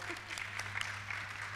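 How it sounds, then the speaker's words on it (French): A small studio audience at a French-language youth politics debate claps briefly and lightly, with a voice speaking over the scattered applause. "On applaudit pour ça."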